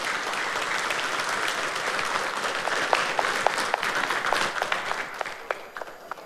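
Audience at a public debate for regent and deputy regent candidates in Banggai Laut, Indonesia, applauds steadily for several seconds, the dense clapping swelling toward the end with a few sharper individual claps standing out.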